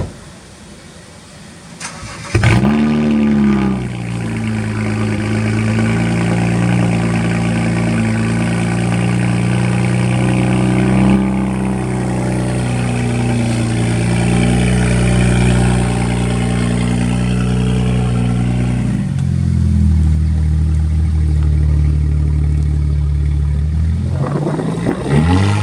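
A BMW 335i fitted with catless downpipes cold starts with a quick crank, then settles into a loud, raspy, elevated idle that drones on for about twenty seconds before dropping lower, with a short blip near the end.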